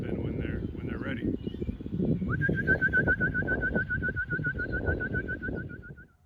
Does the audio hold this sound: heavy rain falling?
no